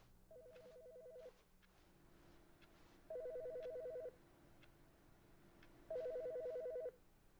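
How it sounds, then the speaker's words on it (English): A telephone rings in The Stanley Parable: Ultra Deluxe video game, three separate electronic ring bursts about three seconds apart, clear and moderately loud over a quiet room tone. "I hear a phone ringing."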